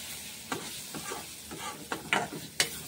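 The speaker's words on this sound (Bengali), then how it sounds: "এখন মশলা ফ্রাই হচ্ছে।" Spices frying in oil in a pan while a Bengali fish chorchori is being cooked, with a steady soft sizzle broken by several sharp scraping stir strokes near the end.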